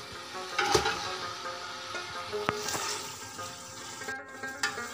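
Beef gosht added to a pot of fried tomato and masala for nalli yakhni pulao, sizzling softly with scraping stirs and a few clanks of a utensil against the pot.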